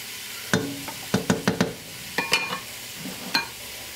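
Onions frying and softening in a pan for a lamb and bean stew, a faint sizzle under a series of sharp scraping and tapping stirs from a utensil, some in quick clusters, close and fairly quiet.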